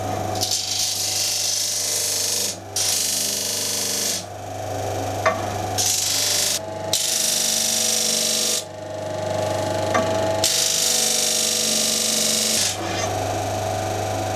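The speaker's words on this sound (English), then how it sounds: "so it's going to grind a draft onto the pattern" A grinder with its table set just off 90 degrees grinds a draft taper onto a wooden casting pattern for bronze, a loud, steady rasping drone broken by several short pauses as the workpiece is lifted and pressed back.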